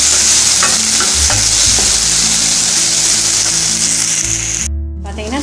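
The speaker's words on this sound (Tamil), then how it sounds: "இப்போ தக்காளியும் போட்டு வதக்கிடலாம்" Onion and tomato sauté in a pan for a quick kurma, with a loud continuous sizzle and repeated scraping as a spoon stirs the mixture close up. The sizzle briefly cuts out near the end.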